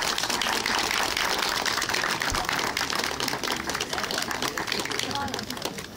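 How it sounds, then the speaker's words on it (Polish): Audience applause at a village harvest festival (dożynki) that also marks a cemetery consecration, a dense, steady crackle of many hands clapping that holds for the whole stretch and thins slightly near the end. "Podziękujmy tak, jak to potrafimy, oklaskami."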